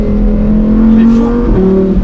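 Lamborghini Huracan Performante S, a light 1.5-tonne car with 640 horsepower, accelerating inside a tunnel, its engine drone steady and loud with a shift in pitch near the end, echoing in the enclosed space.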